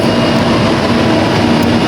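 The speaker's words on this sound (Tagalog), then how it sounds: "kakadating lang din ng tren" A train rumbles loudly and steadily at a station, a dense continuous roar of wheels and machinery with a faint tonal hum running through it and no clear voices.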